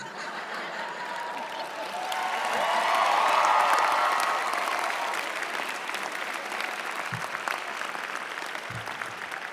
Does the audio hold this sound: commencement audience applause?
yes